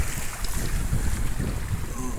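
Strong wind out at sea on a boat among large waves, a continuous heavy roar buffeting the microphone for the whole moment.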